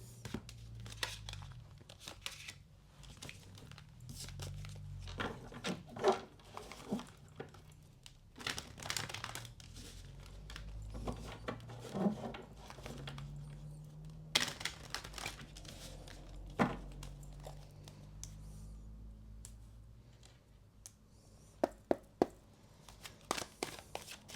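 Tarot cards are shuffled in close, quiet bursts of soft riffling and flicking, with sharper snaps and taps scattered through and a few crisp clicks near the end.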